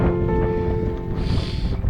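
Wind gusting across an open hillside footpath in the Simonside Hills, Northumberland, a steady low rumble of wind buffeting the microphone with a brief rise in hiss partway through, heard alone.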